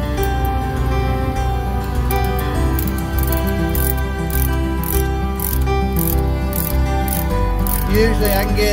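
A ratchet wrench tightening the packing nut on an air-conditioning king valve, giving a continuous run of close, rapid clicking from the pawl with a metallic mechanical rub.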